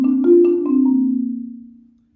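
A mallet percussion instrument plays a short descending run for measure 14 of a junior high audition excerpt, several struck notes settling into a sustained tone that swells slightly and then fades, clear and alone.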